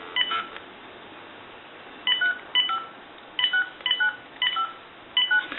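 A call is placed on a line with a 1901 Kellogg wooden wall crank telephone, heard as a sequence of clear touch-tone dialing beeps in short irregular clusters, close and distinct over a faint line hiss.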